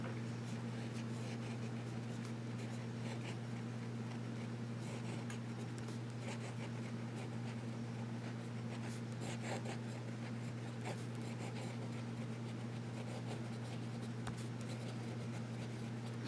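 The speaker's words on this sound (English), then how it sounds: "And this has a medium nib. And we'll do some writing." A Xezo Phantom fountain pen with a medium nib scratches softly and steadily across paper in ongoing strokes and little swirls, faint over a constant low electrical hum, with no talking.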